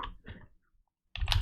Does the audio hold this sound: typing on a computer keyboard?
yes